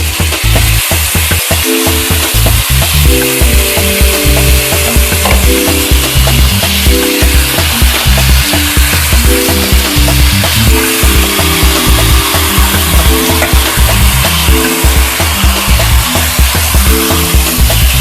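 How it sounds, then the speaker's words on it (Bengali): Marinated chicken pieces for Amritsari chicken masala sizzle loudly and continuously in a hot pan, with rhythmic scraping and stirring strokes throughout, close and alone without voices. "চিকেনটা আমি একটু ফ্রাই করে নেব।"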